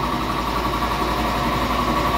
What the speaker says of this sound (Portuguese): o compressor de ar tá ligado